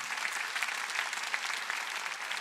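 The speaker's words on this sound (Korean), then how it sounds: "박수치라" Applause rises from a church congregation during a Korean sermon, a continuous, even patter of many hands clapping at once, moderately loud and sustained without any voice over it.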